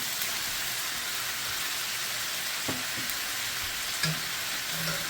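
Chicken pad thai ingredients and tofu fry in a pan with a steady, close sizzle broken by a few light scrapes and stirring taps.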